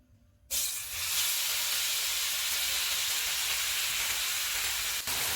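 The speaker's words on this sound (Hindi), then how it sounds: "घी गर्म हो गया, इसमें बनाना डालेंगे" Bananas dropped into hot ghee in a frying pan, bursting into a loud, steady hiss and sizzle right after a brief quiet start, continuing close and unbroken to the end.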